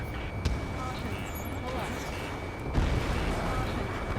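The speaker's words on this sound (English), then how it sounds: "Gunfire and the roar of jets echoing through the streets" Gunfire and roaring jets over a city under martial law in the Ace Combat 7 video game: a dense, steady wash of battle noise with sharp bursts near the start and the end, with voices talking over it.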